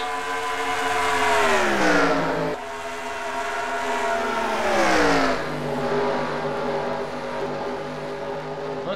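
Race cars on a track roar past close by, engine notes climbing and dropping in long sweeping revs as several cars battle for position, loud and continuous with no talk.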